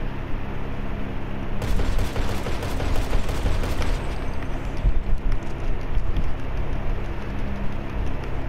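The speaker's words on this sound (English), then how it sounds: "someone else is shooting at me" Gunfire crackles in GTA 5 Online, with rapid bursts of shots peppering the middle stretch over a loud, rumbling game background.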